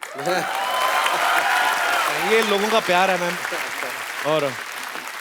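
Applause from a comedy show studio audience runs steadily beneath someone speaking over it, filling the background throughout.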